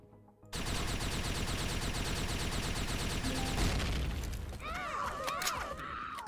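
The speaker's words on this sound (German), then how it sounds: "diese Alien-Geschütze schießen dann auf mich" Alien turret guns in the sci-fi game Empyrion fire a long, loud, relentless burst of rapid shots, followed by crashing, shattering impacts and mechanical noises as the barrage tapers off.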